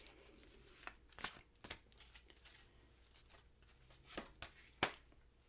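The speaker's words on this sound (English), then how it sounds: "I'm going to shuffle and deal you an Angel Oracle card." Angel oracle cards are shuffled by hand in a quiet room, giving soft papery riffles and crisp flicks in scattered short bursts, close and faint.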